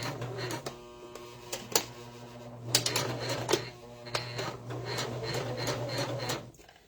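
A sewing machine stitches fabric in quick rattling bursts with short pauses between runs, close and steady, with no one speaking.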